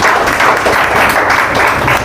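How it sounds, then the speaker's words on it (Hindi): Short burst of audience applause at a coaching institute event, Sharma Mathematics in Patna City, with a crowd clapping densely and loudly throughout. "इसके लिए तो सर के लिए तालियां बजाइए आप लोग"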